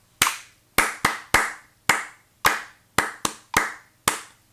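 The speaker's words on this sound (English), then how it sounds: "I might want to record a clap." Hand claps recorded in GarageBand, ten sharp isolated claps at irregular intervals, each close and crisp with a short decay, over near silence with a faint low hum.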